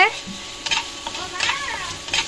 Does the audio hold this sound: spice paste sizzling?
yes